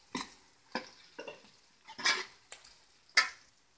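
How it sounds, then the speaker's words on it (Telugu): Green chili pieces are stirred in a pan with onions. Six or so separate scraping, clattering strokes stand out clearly over a faint sizzle, with no voices. "పచ్చిమిర్చి ముక్కలు వేసుకుందామండి ఇప్పుడు."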